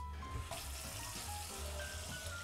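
Hot water runs from a kitchen faucet fed by a Grundfos recirculating pump, a steady hissing flow that continues for the whole stretch at close range, with no voices.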